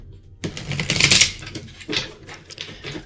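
Tarot cards are shuffled close up: a loud flurry of papery riffling that then settles into scattered, softer card slaps and shuffles.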